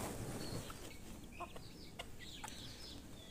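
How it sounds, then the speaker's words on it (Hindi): Month-old chicken chicks peeping and chirping faintly in a poultry pen, several short high calls scattered over a quiet steady background hiss. "ये 30 दिन के चूजे"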